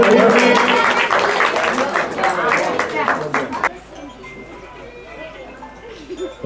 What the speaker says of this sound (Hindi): तो भाई संदीप के लिए जोरदार तालियां भाई संदीप की।